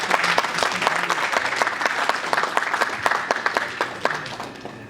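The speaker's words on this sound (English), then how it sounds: "Please with a round of applause." An audience at a business and insurance event breaks into applause, a dense, loud burst of many hands clapping that starts strong and gradually thins out over several seconds.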